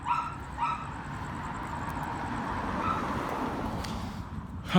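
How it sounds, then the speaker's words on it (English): Faint dogs barking in the distance in a residential neighborhood, a couple of short yaps early on over steady outdoor street noise. "I hate the sound of barking dogs"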